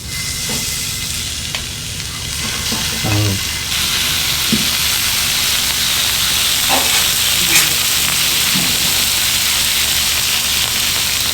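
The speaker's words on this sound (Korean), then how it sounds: "이 지글지글거리는 소리가 들리십니까?" Pork sizzles loudly on a hot grill at a Korean barbecue restaurant, a steady crackling hiss with occasional small pops and spits throughout.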